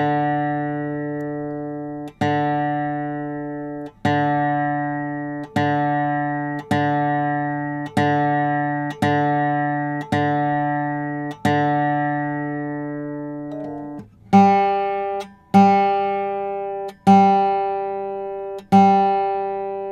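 Reference tones from a guitar tuner app, a series of clean plucked-style notes repeating about every second and a half, each decaying slowly, with a brighter higher pitch taking over partway through, close and alone.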